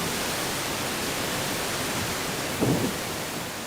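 Steady broadband roar of a waterfall pouring into a freshwater pool where a Jeju stream meets the sea, a continuous even rush with a brief low surge near the end.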